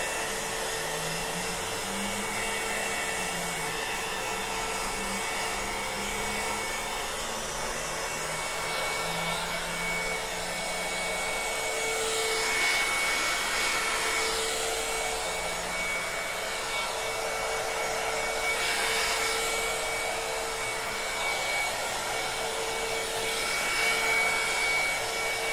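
A hair dryer blows at close range for a long stretch, a steady whooshing hum that speeds up the drying of an alcohol-based coat on a plaster craft piece with copper leaf, alone without talking.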